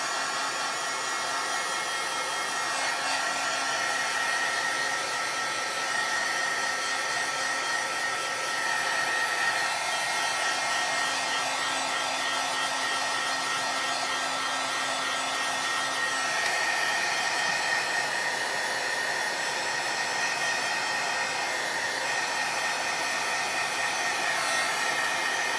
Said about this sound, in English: I'm going to take the heat tool to it.